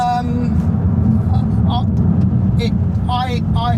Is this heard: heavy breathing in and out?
no